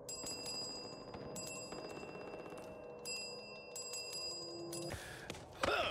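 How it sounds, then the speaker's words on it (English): A bell rung in the Back 4 Blood video game, bright ringing tones repeated several times over a steady backdrop of game noise, with a louder clanging burst near the end. "you can ring the bell"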